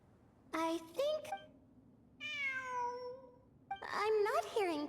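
A cat in the Genshin Impact video game meows clearly, one drawn-out falling meow sitting between two stretches of a child-like voice talking, all near and fairly loud.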